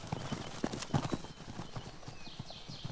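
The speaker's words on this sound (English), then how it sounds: "The Konik, or little horse, is a race of pony from Central and Eastern Europe." Konik ponies, a small, lively Central and East European horse breed, walk with steady clip-clopping hooves, a brisk irregular rhythm of several close strikes, with faint bird calls above.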